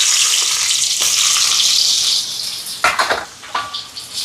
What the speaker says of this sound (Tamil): இங்கே எண்ணெய் சூடாயிட்டு பச்சை மிளகாய், வெங்காயம்,